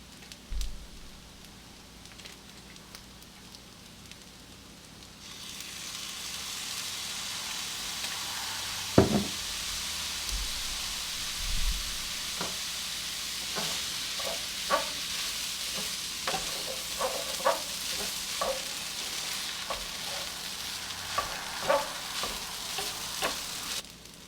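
Vegetarian fried quinoa with low sodium soy sauce crackles steadily in a hot pan, a soft continuous sizzle broken by scattered scraping stirs and small pops, close and fairly quiet.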